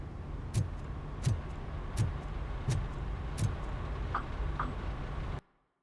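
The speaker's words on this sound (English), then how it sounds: "I wonder if we can take a patrol car." A police patrol cruiser in RoboCop: Rogue City, a steady engine hum with regular ticking clicks about every 0.7 seconds and a couple of brief electronic tones near the end, cutting off abruptly.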